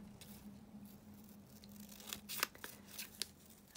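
Scissors snipping around layered paper butterfly pieces, a series of short crisp cuts clustered in the second half, close and fairly quiet over a steady low hum.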